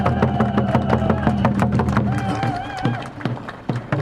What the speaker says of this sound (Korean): 양재수 군수님께 우리 뜨거운 박수 한번 부탁드리겠습니다